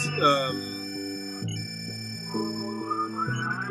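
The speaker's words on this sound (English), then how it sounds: "kind of vocal synthesis sound that is coming later with the synth that you can already hear in the background here" A synthesizer producing a vocal-like synthesized tone, with sustained stepped pitched notes that glide and shift in a slow melodic line, heard clearly without talk.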